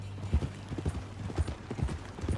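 Horse hooves clip-clop at a walk in a Western-style video game, several regular, fairly close hoofbeats over a low background hum with faint talk.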